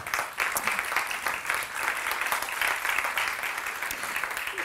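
An audience at the opening of a corporate event applauds, a sustained wash of clapping from many hands that holds steady for several seconds, with no one speaking over it.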